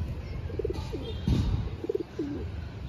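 Soft, close coos from a black pigeon repeat in short rounded phrases over quiet background noise, with one brief rustle in the middle.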